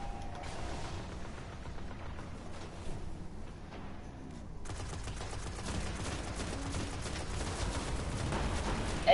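Gunfire in the video game Destiny, with rapid dense bursts of shots and low booms rolling continuously, loud and busy throughout.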